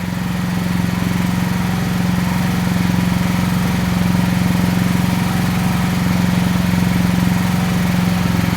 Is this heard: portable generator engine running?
yes